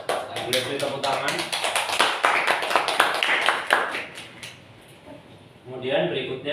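Pupils in a classroom lesson give a burst of quick, close applause that lasts about four seconds and then dies away, and a voice starts talking afterwards.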